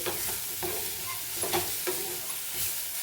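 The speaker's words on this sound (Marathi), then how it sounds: "पुन्हा चांगलं मिक्स करून घ्यायचं आहे" A vegetable dish being stirred in a frying pan, with repeated scraping strokes at irregular intervals over a continuous soft sizzle and hiss, close and moderately quiet, with no talk.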